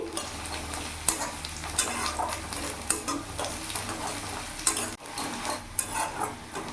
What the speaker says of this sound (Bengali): আমার রসুনটা ভালো করে ভাজা হয়ে গেছে